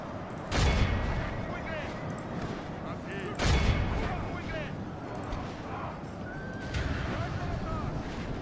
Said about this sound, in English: Sending our cavalry to push him back a little.